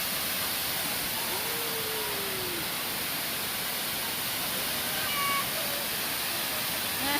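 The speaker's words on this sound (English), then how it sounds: "Yeah, the waterfalls." A waterfall at Stony Brook, New York, gives a steady, loud, full rush of falling water that stays constant throughout, with faint thin tones drifting in and out above it.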